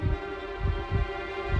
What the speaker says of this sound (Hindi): विवान के धड़कन की आवाज सबसे पहले उस गोले में से आई थी